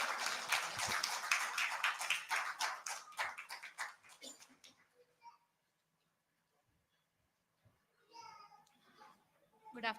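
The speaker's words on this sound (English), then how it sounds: "So please give her a big round of applause" An audience at a Kerala direct selling convention applauds to welcome Leena Manoj of Modicare, with dense clapping that thins out over several seconds and then stops, leaving quiet before faint voices.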